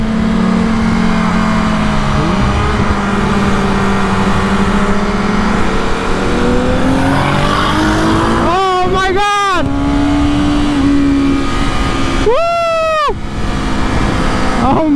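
A car engine drones steadily, then is revved hard twice, each blip sweeping sharply up in pitch and dropping back. Voices talk over the running engine.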